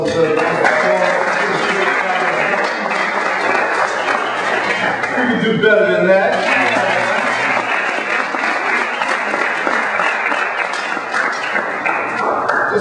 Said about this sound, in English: another well-deserved round of applause